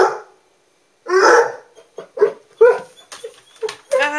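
A basset hound barks and yips repeatedly in short, uneven bursts, close by, after a brief silence at the start.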